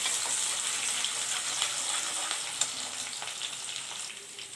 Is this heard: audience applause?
no